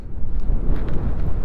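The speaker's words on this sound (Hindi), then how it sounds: "और तेज़ हवा चल रहा है, तेज़ हवा" Strong mountain wind roaring across the microphone on the high road to Manang in Nepal, heard on a BMW G 310 GS motorcycle trip: a steady, loud, low buffeting rush with no pauses.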